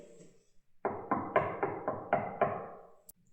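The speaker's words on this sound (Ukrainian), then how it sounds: "Давайте подивимось і постукаємо у двері." Knocking on a door of a little house: seven firm, evenly spaced knocks, close and clear, in a steady rhythm with no talking.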